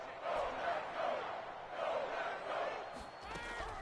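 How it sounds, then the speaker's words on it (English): A stadium crowd in the Madden NFL 22 video game roars in swelling waves ahead of a big third down, holding at a steady moderate level throughout. "the crowd getting into it as we come up on a big 3rd down"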